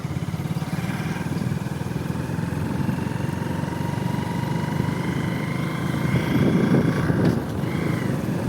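A motorcycle engine running during a bike ride, a steady low droning hum that swells a little louder near the end, with no talk.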